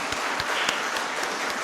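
A church congregation applauds at a Karo-language Sunday service, a dense wash of clapping with a few sharper claps standing out, continuous for the whole moment without speech.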